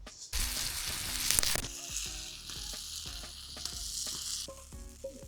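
Tomatoes sizzle in a hot frying pan with a little salt, a bright crackling hiss that surges at first, then settles into steady frying, with a few utensil clinks and scrapes mixed in.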